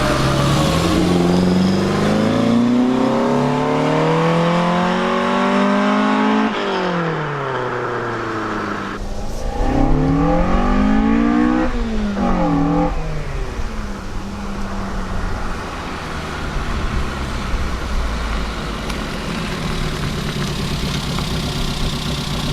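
Datsun 1000 coupe with an A15 engine revving repeatedly, its pitch climbing and falling through several throttle blips before settling to a rough idle, loud and close, with no talking.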